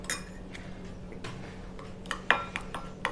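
A spoon mixes a yogurt and spice paste in a bowl, making quiet, sparse clinks and scrapes with a few sharper knocks against the bowl and a low room hum behind.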